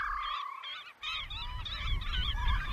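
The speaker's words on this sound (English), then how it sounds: "It's just a constant cacophony from the birds, just moving around, squawking at each other." Hooded grebes squabble at their nests on the water in a dense, unbroken chorus of nasal, honking squawks that overlap from several nearby birds, with no pauses.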